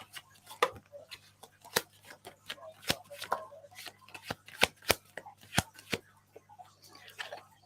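Tarot cards shuffled by hand before a psychic reading, a run of sharp, irregular riffling snaps and soft slides, close and fairly quiet, with no talking.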